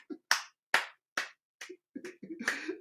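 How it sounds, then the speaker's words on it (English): A crowd at a Biafra freedom live broadcast gathering claps in sharp, separate bursts at a fairly even rhythm, about six strong claps followed by a looser, denser patter, with no talk. "let us clap"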